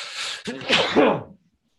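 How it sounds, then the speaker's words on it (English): A single loud sneeze right up close, a breathy intake then a sharp burst, followed by silence. "urge to sneeze"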